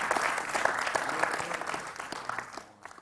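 Steady applause from an audience for a scholarship speaker at a campus event, dense clapping throughout that thins and tapers off near the end.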